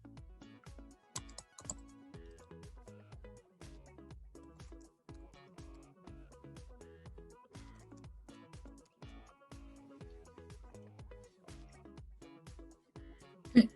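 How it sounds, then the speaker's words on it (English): An email address is typed on a computer keyboard while setting up an online account: close, crisp keystrokes in uneven bursts with short pauses, clicking on without any talk. "So I'm going to type my email address into the field."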